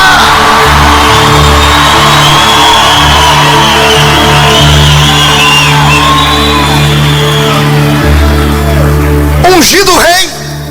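A church congregation shouts loudly in a big, sustained roar of massed voices over steady organ-like tones, ending with a short burst of louder noise.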